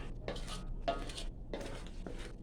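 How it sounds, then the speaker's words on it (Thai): A utensil scrapes and stirs through thick sweet bean paste in a pan over low heat in repeated strokes, with a faint sizzle underneath. "คนไปคนไป เรื่อย ๆ นะ เพื่อน ๆ คนไปจน จนเขาจะ ไม่ติด กระทะ"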